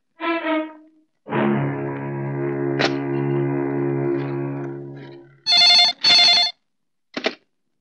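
A telephone rings in a Hindi film scene: electronic ring bursts, a long sustained tone, then two loud pulses and a short final chirp, heard alone without talk.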